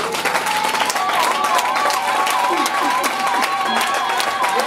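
A Sunday church congregation breaks into steady applause and cheering, a dense roar of clapping and voices that holds throughout without pause.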